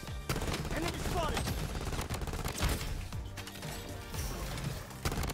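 Dense bursts of automatic gunfire from the shooter video game Bloodstrike crackle nearly nonstop, with clicking weapon mechanisms between rounds and a faint voice in the background.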